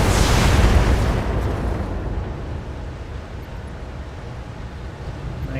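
Precision-strike explosions in the Battletech game, a heavy boom bursting out at the start and rolling into a long, loud decaying rumble that fades over several seconds.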